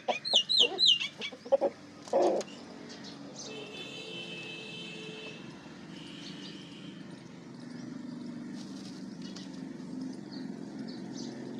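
Japanese hens cluck nearby, a few quick clucks and squawks at the start, then soft murmuring clucks continue under a steady low background hum.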